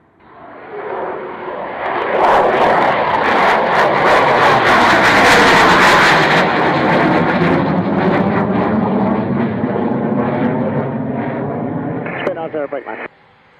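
A Spitfire aircraft's piston engine runs steadily while warming up before departure, a loud, sustained roar with a broad rumbling drone that holds for over ten seconds before cutting off abruptly.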